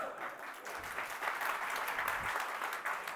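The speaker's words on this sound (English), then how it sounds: "oh my god, two claps in such short succession" Audience applause fills the room steadily for a few seconds, a dense even patter of many hands clapping at moderate volume with no voices over it.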